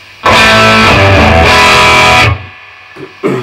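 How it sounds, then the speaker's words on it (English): An electric guitar played through an Artist Guitars Green Scream overdrive pedal rings out in a loud, close, distorted chord lasting about two seconds, then cuts to near silence before brief string noise and another hit. "a tube screamer goes over a driven sound like this"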